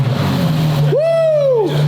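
A twin-turbo Ferrari F12 engine gives one sharp, close rev that rises quickly, holds, and falls away over a steady idle hum.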